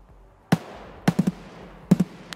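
Suppressed gunfire in the shooter game Escape from Tarkov: a single sharp crack, then a quick burst of three, then two more closely spaced shots, all loud against a quiet background with no speech.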